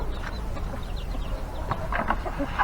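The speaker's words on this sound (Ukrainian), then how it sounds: "Кури вже тут повиходили" Several chickens cluck softly and irregularly close by, with short overlapping clucks and chirps scattered throughout.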